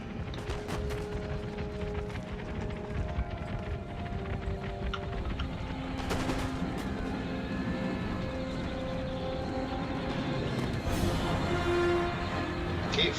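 Massed units fire in an Empire Total War battle with the Netherlands, giving a steady rattle of distant musketry and scattered sharper volleys over a continuous battlefield rumble.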